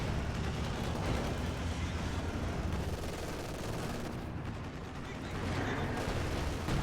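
Dense, continuous gunfire from Zisk guns in a video game battle as Panther tanks push in, a loud, unbroken crackle of rapid shots filling the whole stretch.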